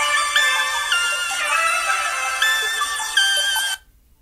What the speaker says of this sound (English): My phone buzzing.